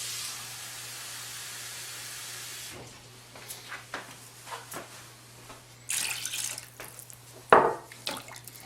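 Water pours and splashes into a pot of Greek stuffed vegetables, a steady stream at first, then intermittent splashes and drips close by.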